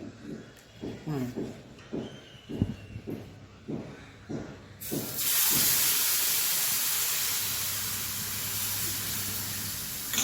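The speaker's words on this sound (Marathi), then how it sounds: "यावर आपण हा डोस्याचे मिश्रण घालूया" Several rhythmic stirring strokes in rava dosa batter come first, then the semolina batter hits a hot pan with a sudden loud, sustained sizzle that hisses on evenly to the end.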